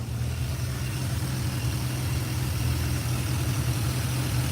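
A 1986 Chevrolet C10 pickup with a 4.3 V6 throttle-body-injected engine idles in a steady, low, even rumble, running on its own with no talk over it.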